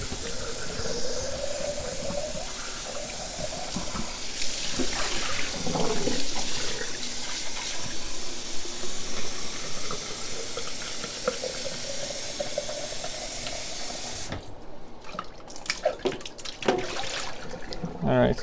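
Tap water runs steadily, hissing and splashing over a dirty sediment filter from a five-stage Apec reverse osmosis system as it is rinsed at a sink, with the flow cutting off near the end.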